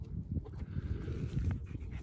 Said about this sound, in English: Puppies, come here.